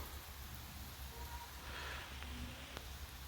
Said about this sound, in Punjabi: ਮੀਂਹ ਪੈਂਦਾ ਦੇਖੂ ਤੁਹਾਨੂੰ